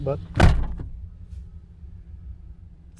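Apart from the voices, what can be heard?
closing the door of a 1993 Lincoln Town Car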